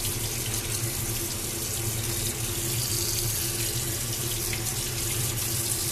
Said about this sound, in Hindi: तो ठंडे पानी के नीचे धोना है